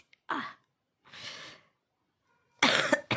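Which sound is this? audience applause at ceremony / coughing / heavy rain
coughing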